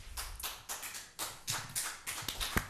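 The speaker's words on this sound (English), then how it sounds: "You're getting applause." Applause from the audience at a town selectmen's board meeting, a sparse run of individual claps in uneven bursts, fairly close and moderately loud, with no talk over it.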